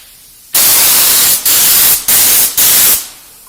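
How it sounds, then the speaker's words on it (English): A spray gun hisses in four loud, bright bursts of clear lacquer onto burnt wood, each a sustained spray cut by short pauses, close to the microphone. "We're just going to give this a clear coat of lacquer with my little spray gun."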